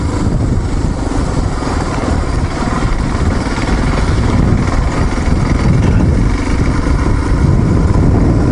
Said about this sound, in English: We got some adventure bike riders.